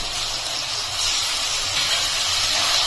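A spice paste of yogurt, ground cumin and ground coriander sizzles in a pan with fried onion paste while a rohu fish curry is cooked. It makes a steady, loud hiss that holds throughout, with no talking.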